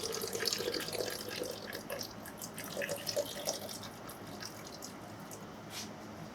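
A liter and a half of liquid is poured into a blender while making ghost pepper hot sauce, heard as a steady, close, gurgling stream with small splashes throughout.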